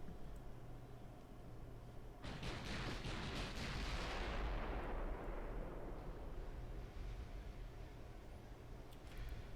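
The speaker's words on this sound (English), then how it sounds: "these guns, for their size, they reload so damn quickly." Naval guns firing in the warship game Ultimate Admiral: Dreadnoughts, a rapid burst of deep booming shots that swells into a rolling rumble and slowly fades, loud and without talk.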